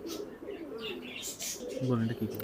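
Farm-bred pigeons of the Sakhi Teddy type coo in soft low notes close by, with faint chirps and a voice speaking over them.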